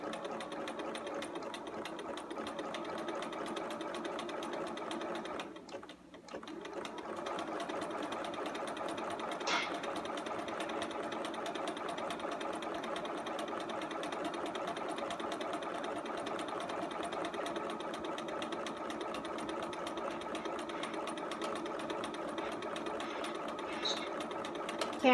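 A domestic sewing machine stitches steadily around the eye of a fabric monster, a close, continuous mechanical whir that runs almost unbroken apart from one brief pause.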